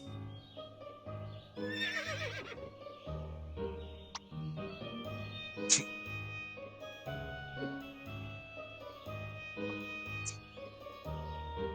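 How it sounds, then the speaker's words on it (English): A horse whinnies over steady game music in the video game To The Moon, with a short high burst and a second whinny later; faint jingles sit in the background. "And it's a horse."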